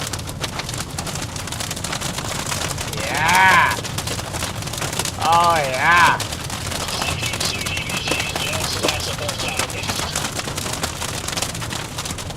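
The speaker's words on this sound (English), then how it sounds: "Love the sound of hail." Hail clatters steadily throughout a storm, a dense rattling patter with some larger stones, while someone speaks briefly and excitedly over it.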